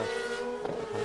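A GP2 Series racing car engine drones at a steady high pitch, moderately distant, with faint crowd or track noise underneath, at the British Grand Prix circuit in 2006.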